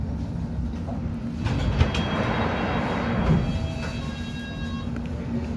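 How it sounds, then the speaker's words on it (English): A London Underground Hammersmith and City line train braking: a steady, close rumble of the carriage with thin, high tonal whines from the brakes running across it, no voices. "Oh, the brakes sound so good."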